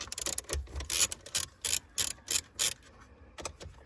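A ratchet undoes 10mm bolts on a Mitsubishi Triton, giving bursts of close, sharp clicking in quick uneven runs with brief pauses between strokes.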